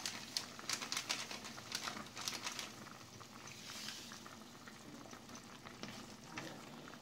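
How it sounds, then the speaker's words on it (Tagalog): Fish sinigang soup bubbling in a pot, a steady crackling, popping simmer with dense small bursts, close and moderately loud, no talking. "kumukulo na ang ating lulutuing sinigang na isda"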